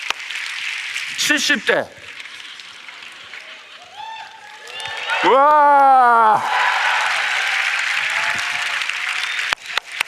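A church congregation claps steadily, a dense wash of applause that swells in the middle and carries on under a pastor's voice and a short crowd exclamation.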